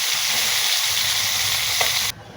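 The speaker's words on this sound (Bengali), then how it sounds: "মাছটা একটু লাল লাল করে ভাইজা তুলা রাখি" Poa fish frying in hot oil in a pan, a steady close sizzle and crackle that drops off abruptly near the end.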